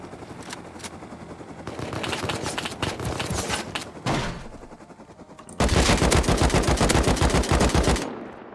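Bursts of automatic gunfire in the survival game Rust, rapid rattling volleys that stop and start, with the loudest, nearest sustained burst coming near the end.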